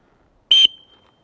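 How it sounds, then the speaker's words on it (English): A small cheap whistle from an Amazon survival kit gives one short, piercing shrill blast, loud and close, with a faint ringing tail in an otherwise quiet space. "It does have a little whistle there, again, headphone users."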